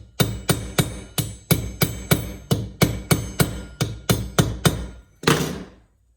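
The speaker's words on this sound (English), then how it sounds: "I'm going to give her a couple more taps." Hammer tapping to crimp the reed of an antique jaw harp, about fifteen sharp metallic blows in a quick even rhythm, close and loud, ending with a brief scrape and then silence.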